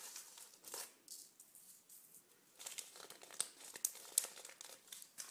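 Dark polymer clay crumbs being mixed by hand, a soft close crinkling and crunching that comes in small uneven bursts, faint and dry with brief sharper clicks.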